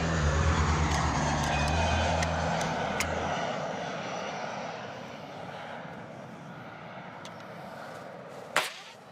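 A propeller airplane engine drones loudly up close at Orly airport, then fades steadily as it moves away, with a sharp crack near the end.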